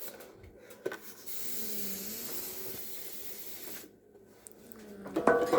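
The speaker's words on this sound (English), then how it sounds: "And we're going to spray that one too" Cooking spray is sprayed onto a baking pan for banana bread, a steady close hiss lasting about two and a half seconds, with no talking.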